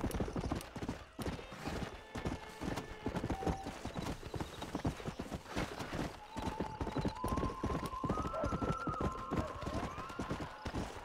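Horse hooves clip-clop in Red Dead Redemption, a steady rhythmic galloping beat that runs throughout, close and loud, with a brief whinny and game sounds layered beneath.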